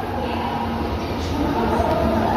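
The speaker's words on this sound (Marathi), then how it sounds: "आता अजून एक लोकल आलेली आहे" A Mumbai local train rumbles into a station, a loud, continuous low roar and rattle of wheels and carriages that holds steady close by.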